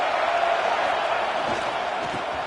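A packed football stadium crowd at a Texas A&M versus Florida Gators game roars in a steady, dense wash of cheering and noise that holds loud and unbroken throughout.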